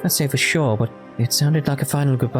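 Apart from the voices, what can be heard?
None of the usual background noises is heard.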